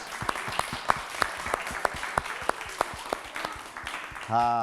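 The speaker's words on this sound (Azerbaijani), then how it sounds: "Alqışlar. Alqış." Audience applause for a contestant at an Azerbaijani talent festival show, heard as rhythmic spaced claps in a room, moderately loud, ending with a brief musical tone and a swell of crowd noise.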